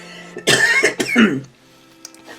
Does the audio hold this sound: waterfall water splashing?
no